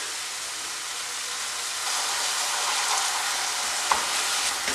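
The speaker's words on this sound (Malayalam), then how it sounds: "എന്നിട്ടൊന്ന് സ്ക്രാമ്പിൾ ചെയ്തെടുക്കുക." Eggs are scrambled in a hot pan beside grated coconut, giving a dense, even hiss of frying that holds steady throughout, with one brief tap of a utensil near the end.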